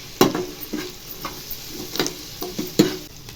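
Gojju tempering with coriander and curry leaves stirred in a pan, a handful of sharp spoon scrapes and clinks at irregular intervals over a gentle low sizzle, no talk.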